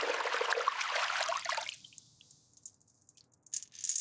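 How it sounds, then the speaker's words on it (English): Saline draining from pearls in a stainless steel sieve: a wet, hissing pour of liquid for about a second and a half, then quiet with a few faint drips and small trickles. "The pearls are poured into a stainless steel sieve to drain the saline."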